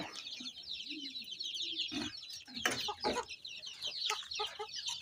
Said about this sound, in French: cette nouvelle créature de race de poulet jamais vue